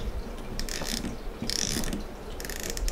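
Drag knob on a spinning fishing reel being screwed down tight, producing bursts of rapid ratchet clicking in several short runs, close and fairly quiet, with no talking.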